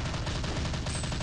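Rapid gunfire in the shooter game Gun War: SWAT Terrorist Strike: loud, dense bursts of repeated shots in quick succession, with no talking.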